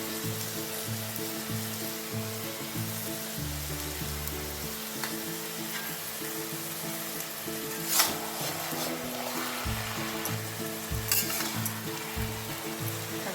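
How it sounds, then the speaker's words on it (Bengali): Prawns and elephant foot yam stalks sautéed in a pan with cumin powder, chilli powder, green chilli paste and salt give a loud, steady frying sizzle. Scraping stirring strokes run through it, with no voices. "এটাকে মশলা দিয়ে কষতে হবে"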